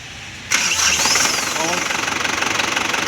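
Toyota Tavera diesel DI engine with a late-starting fault cranks and catches after a brief pause, then settles into a loud, close, rhythmic knocking idle; voices talk nearby.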